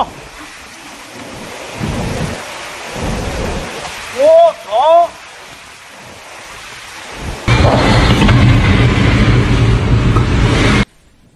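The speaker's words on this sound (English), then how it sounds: "Sicily was hit a severe storm that swept across the island overnight, causing torrential rain, storms, winds, and widespread flooding" Severe overnight thunderstorm over Sicily with torrential rain, heavy downpour noise coming in bursts with a few short shouts or calls in the middle, then a loud steady roar of pounding rain before it stops abruptly.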